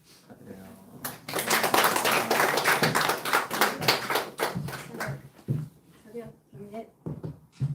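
A church congregation claps their hands during a Sunday harvest thanksgiving service. The clapping is loud and dense at first, then thins into scattered claps, with voices speaking over it.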